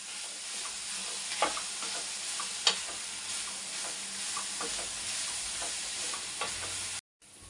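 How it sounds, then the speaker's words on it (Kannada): Tomato frying in a pan for mushroom tikka masala makes a loud, continuous sizzle with occasional stirring clicks and taps. The sound stays close and steady before cutting off abruptly near the end. "ಆಮೇಲೆ ಟೊಮೊಟೊ ಹಾಕೋತಾ ಇದ್ದೀನಿ. ಇದೆಲ್ಲ ಒಂದು ಸ್ವಲ್ಪ ಚೆನ್ನಾಗಿ ಫ್ರೈ ಆಗಬೇಕು."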